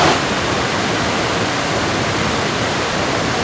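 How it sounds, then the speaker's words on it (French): Victoria Falls roars as a huge waterfall plunging into deep gorges, a loud, constant wash of rushing water that stays steady and unbroken throughout, with no voices. "les cascades ça n'arrête pas, ça part dans des gorges et ça continue sur la même hauteur"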